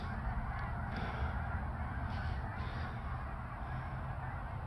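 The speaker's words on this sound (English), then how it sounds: "I heard this massive uproar of geese" A noisy flock of geese honking together in a loud, overlapping chorus, with a constant low rumble beneath the calls.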